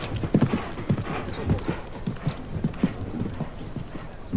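Horse hooves clip-clop in a steady rhythmic gait across a show jumping arena at the 1990 Derby dei Fiori in Sanremo, with an occasional snort and faint background voices and crowd murmur.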